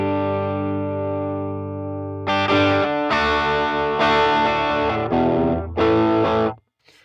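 An electric guitar runs through a Tauren overdrive pedal, with a louder, gritty tone: a sustained chord rings out, then a run of choppy, distorted strums and chords, close and loud, ending in a sudden stop.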